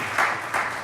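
Audience applause following a presentation at a conference on women in journalism's technological revolution, a short steady wash of clapping with slight swells, moderately loud and without voices.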